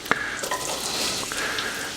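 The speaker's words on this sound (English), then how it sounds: "my butter is nice and ready to cook now, so I'm going to add in my onions" Onions dropped into hot butter in a pan, hitting with a short clatter and then a steady, close sizzle that keeps going without talk.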